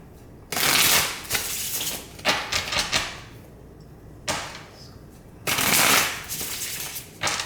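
Several bursts of tarot cards being riffled and shuffled, crisp rapid flutters separated by brief pauses, close up with no talking.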